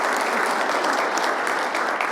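Steady round of audience applause at a conference talk, dense even clapping from a full room, alone and sustained.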